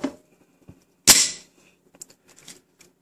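A Glock handgun slide snaps forward under spring force with one sharp, loud metallic crack, followed by faint clicks and handling noises in a quiet room.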